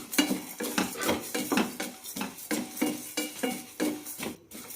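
Roasted gram and other ingredients being dry-roasted in a pan over medium flame, with a steady rhythm of repeated scraping and clinking strokes of a spatula against the pan, close and fairly quiet, without speech.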